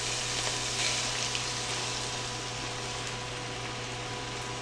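Pasta sauce, tomato and basil flavor, poured over drained cooked meat in a pan, giving a steady close sizzle with faint crackle and stirring throughout, no voices.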